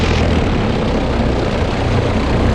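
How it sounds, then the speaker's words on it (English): Large engine of a Zenith SuperDuty light airplane warms up on the ground, a steady, loud propeller drone that holds constant throughout with no talk. "Yeah, it's a big motor on this little airplane."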